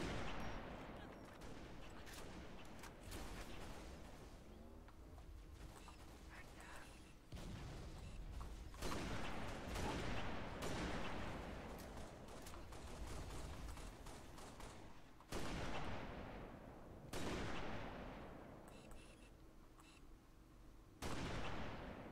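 Sniper rifle shots in the Halo video game, played with a PS3 controller against bots: several sharp, loud gunshot cracks spread over the stretch among continuous gunfire and game noise, with someone talking over it.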